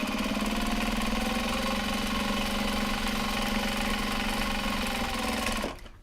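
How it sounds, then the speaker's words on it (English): An industrial sewing machine runs continuously on large box bags, a loud steady mechanical whir with rapid stitching rhythm up close, stopping abruptly near the end. "We're just gonna sew today."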